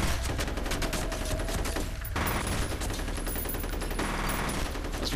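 Dense, continuous gunfire from the first-person shooter F.E.A.R., with rapid automatic bursts and heavy shots layered without pause, loud and close throughout.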